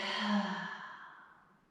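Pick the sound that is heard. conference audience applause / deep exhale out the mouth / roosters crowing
deep exhale out the mouth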